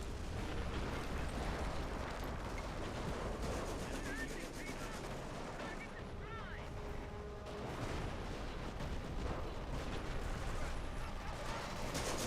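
Dense rumbling explosions and rattling gunfire from a video game bombing and strafing run roll on continuously, loud and layered, with distant booms beneath the chatter of battle.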